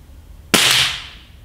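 A Snowpeak SR1200S air rifle fires a single pellet: one sharp, close report with a brief bright decay, alone with no talk.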